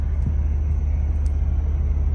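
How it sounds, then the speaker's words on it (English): Steady low rumble and distant engine drone carry across a ferry deck just after departure from Denmark, loud and continuous with no talk, resembling far-off airport noise. "Sounds like an airport over there."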